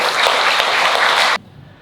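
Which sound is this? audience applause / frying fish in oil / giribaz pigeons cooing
audience applause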